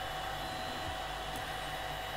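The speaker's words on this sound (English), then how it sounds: "I'm using a fairly husky fan." A fairly husky cooling fan on a 3D printer's hot end whirs steadily and close, a constant broadband airy hum with no talk.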